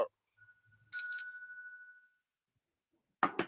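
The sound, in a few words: bell being shaken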